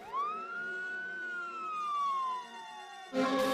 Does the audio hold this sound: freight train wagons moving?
no